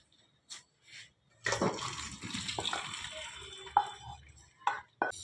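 Boiled chicken and its water are tipped out of a cooking pot, giving a splashing, gurgling pour with a few clinks of metal, close by, after a couple of brief faint knocks.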